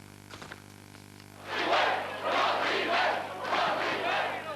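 Angry crowd of residents shouting at a municipal assembly meeting in Gaia, Portugal: after a brief quiet moment, a loud surge of many voices yelling and jeering erupts in repeated waves inside a hall.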